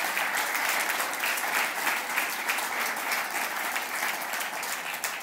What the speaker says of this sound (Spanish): Dele un buen aplauso al Señor